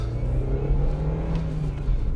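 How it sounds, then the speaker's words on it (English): A cold 1999 Ford Fiesta engine runs at a steady, slightly raised idle, a loud continuous drone heard close up without any talk. "It's kind of revving a little bit higher as it should when it's cold."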